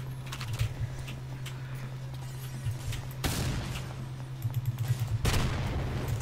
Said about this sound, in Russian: Ну, это я в тебя выстрелил.